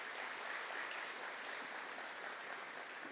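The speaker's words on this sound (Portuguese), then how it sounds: "Uma salva de palmas para o anjo da guarda que nunca deixou de cuidar de você." Sustained audience applause at a church sermon on faith, steady and dense throughout with no voices on top.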